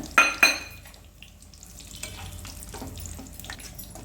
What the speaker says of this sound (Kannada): ದ್ರಾಕ್ಷಿ, ಗೋಡಂಬಿ ರೋಸ್ಟ್ ಮಾಡ್ಕೊಳ್ಳೋಣ.